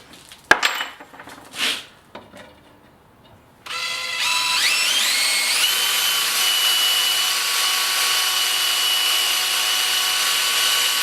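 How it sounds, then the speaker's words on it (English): A drill bores holes for a gas pipe through a forge body while a forge burner is being built. A few clanks come first, then a steady, loud whine rises in pitch and holds. "we're going to drill the holes to get our gas pipe through here"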